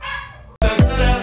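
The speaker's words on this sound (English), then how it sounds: "And then you can hear our puppy in the background." A small dog yips and whimpers close by, a short high-pitched burst after a brief pause, over a steady background hum.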